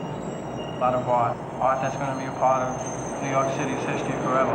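A New York subway train rumbles and clatters in the background while someone speaks over it in short bursts.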